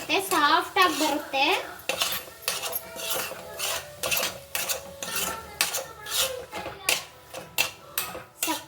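Carrot halwa being stirred with ghee and sugar in a pan, with a metal spoon clinking and scraping in a quick repeated rhythm close by, while someone talks over the opening seconds.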